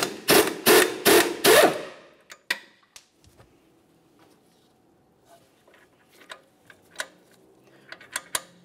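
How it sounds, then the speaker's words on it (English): A ratchet wrench and 19 mm socket loosen a strut mounting nut on a 2006-2011 Honda Civic front suspension, beginning with four loud rapid ratcheting bursts, then scattered metallic clicks and taps, close and alone. "Let's use a wrench to hold the bolt head and a 19 millimeter socket to remove the mounting nut"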